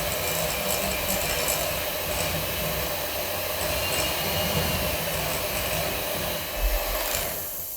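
Electric mixer beating carrot cake batter with sugar, a steady high whirring drone, close and continuous throughout.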